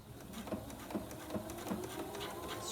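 A sewing machine stitching pillow fabric runs quietly in a steady series of soft rhythmic needle taps, fairly faint and close, with no voices.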